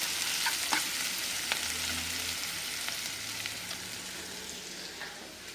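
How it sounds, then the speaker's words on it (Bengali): Onion and green chili sizzling in a hot pan, with water spinach (kolmi shak) added to fry, a steady close crackle with occasional sharp pops, no talking. "এখন পেঁয়াজ মরিচটা ভাজে নিব। আমি এখানে কলমি শাকগুলো দিব, একটু ভাজা হোক।"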